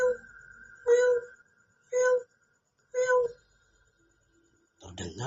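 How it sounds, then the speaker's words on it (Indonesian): A cat meows three times at steady intervals, clear and fairly close, followed by a brief rustle at the end. "Terdengar seekor kucing hitam"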